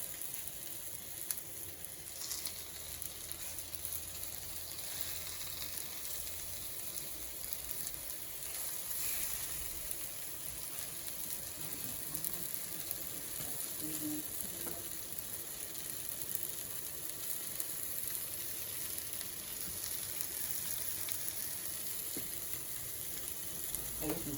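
Chicken sizzles and fries steadily in a hot pot, a constant crackling hiss at moderate level with occasional faint stirring clinks and no voices.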